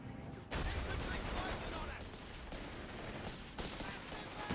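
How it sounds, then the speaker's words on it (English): A 2-pounder anti-tank gun in Company of Heroes 3 fires at a tank amid battle noise, with sharp blasts at the start and again later over a dense rumbling backdrop, all mixed under commentary. "The emotional support 2-pounder, firing shots at the P4, not going to do anything to it"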